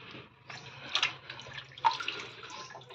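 Tulsi (holy basil) leaves are rinsed under a running kitchen tap, with soft, close splashing and trickling water throughout and no talk.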